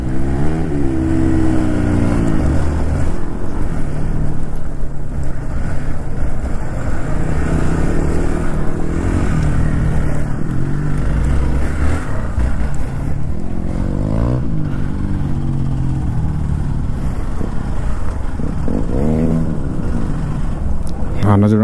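A motocross motorcycle engine revs and accelerates on a quarry track, loud and close, with the pitch swinging up and down repeatedly under near-constant talk.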